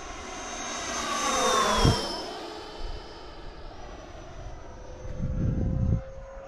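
An Avanti S v2 RC jet at just over half throttle makes a whooshing pass, rising to a peak and a falling whine, then a fainter steady turbine hiss with a second swell toward the end.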